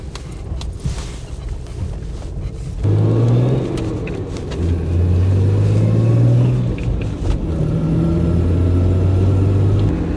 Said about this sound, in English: this thing has some pretty good pull for such an old worn out engine